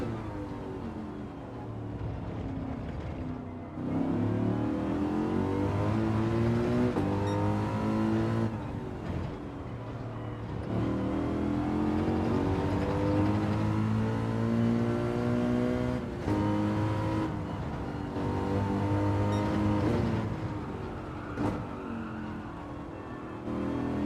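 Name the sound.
race car engine on laps in video game Gran Turismo 7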